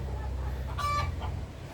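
A lame backyard rooster chases a hen, giving a brief, close clucking squawk against quiet outdoor background noise.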